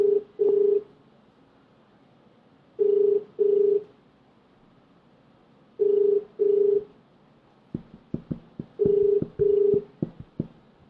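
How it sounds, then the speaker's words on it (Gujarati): A phone call rings unanswered, with a repeating double-pulse ringback tone sounding four times at even intervals, and sharp clicks scattered through the final seconds. "હવે ફોન નથી ઉઠાવી રહ્યો"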